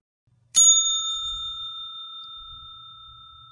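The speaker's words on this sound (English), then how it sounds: "He was woken up in the morning by the sound of the bell ringing out." A single bright church bell strike rings out clearly and alone, its pure tone sustaining and slowly fading over several seconds.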